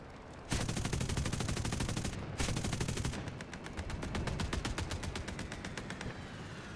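Gunfire in War Thunder tank combat, rapid automatic bursts of sharp rattling shots, loud and close, broken by short pauses and then a longer rapid string.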